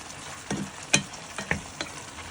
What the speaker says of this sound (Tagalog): At hayaan nyo lang po siyang kumulo ng mga 2 minutes.